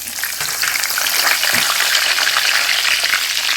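Green chillies frying in hot oil for chicken pakoda give off a loud, steady, hissing sizzle that runs unbroken from start to finish, with no voices.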